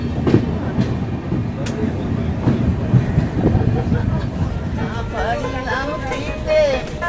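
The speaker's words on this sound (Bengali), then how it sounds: "ট্রেনটা এখন ঢুকলো কিষানগঞ্জ স্টেশনে" A train pulls into Kishanganj station, heard from inside a carriage: a continuous low rumble and rattle of the cars with faint clicking rhythm, and people's voices chattering throughout.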